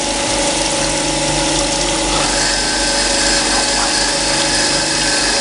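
Bench grinder running steadily, a loud constant mechanical whine and hum with a continuous droning tone and no pauses, heard close and alone.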